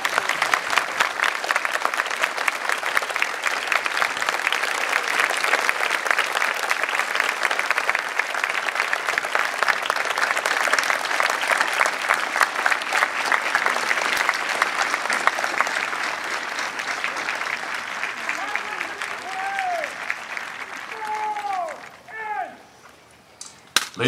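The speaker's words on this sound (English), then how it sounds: "please join me in a round of applause for our veterans" Sustained audience applause for Second World War veterans at a 2009 Battle of Britain ceremony, a dense crowd clapping steadily for about twenty seconds before thinning out and tapering off.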